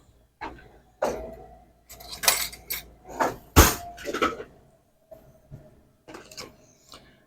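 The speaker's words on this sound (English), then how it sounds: "Let me get a spoon to get that out of there" A spoon is pulled from a kitchen drawer: scattered clinks and rattles of metal cutlery, a scraping slide and knocks, close and irregular, with no speech.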